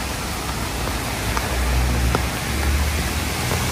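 Heavy rain pours down in a steady, dense hiss outdoors in a flooded yard in Odessa, with a faint low rumble of passing traffic underneath.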